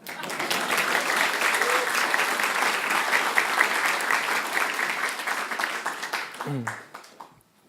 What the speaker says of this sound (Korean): 큰 박수로 힘주셨으면 합니다.